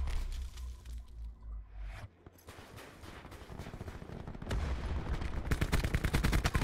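Rapid video-game gunfire from a KN-57 rifle, with a dense burst at the start, a brief lull, then quick sustained automatic fire building toward the end.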